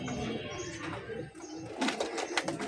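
Giribaz pigeons give soft, low coos at close range, partly muffled under ambient noise, with a brief flutter of louder activity toward the end.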